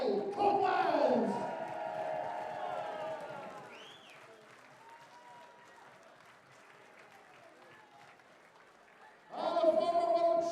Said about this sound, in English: Keep your applause going for Barry Copeland!